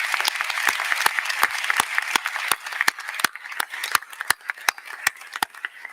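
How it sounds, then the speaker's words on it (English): A crowd gives a doctor a steady round of applause at a 2022 medical-student White Coat ceremony, the dense clapping continuing for several seconds with sharp individual claps standing out near the end. "let's have a round of applause for Dr. Hoffman's dedication to our medical students"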